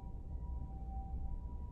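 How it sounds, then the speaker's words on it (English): A siren wails steadily outdoors, a faint, sustained tone held over low rumbling background noise throughout, with no other sounds standing out. "It's such a bad timing, the siren."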